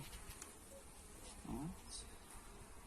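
A bee buzzes faintly and steadily through the whole stretch at a beehive frame, with soft rustling and a brief low hum in the middle.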